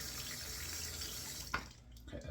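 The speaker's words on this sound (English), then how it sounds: "I'm actually going to temper it with more hot water." Hot water runs from a tap into a sink as a steady, broad rush that fills the clip, then cuts off sharply near the end, leaving a few small drips and clinks.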